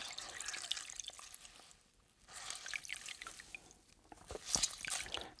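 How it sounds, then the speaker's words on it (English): Water drips and trickles from a wet chamois back into a bowl, a quiet run of small splashes and dribbles that comes in bursts, with a busier patch of drops near the end. "right here you can hear a little too much of the kind of dripping sound of it going back in"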